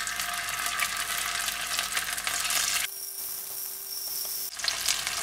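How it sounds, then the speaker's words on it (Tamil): Mathi sardines frying in hot oil give a loud, steady, close sizzling hiss that drops sharply partway through, then surges back near the end, with no voices. "நெக்ஸ்ட்டு அதே ஆயிலில் ஃபிஷ்ஷு ஃப்ரை பண்ணிடலாம்"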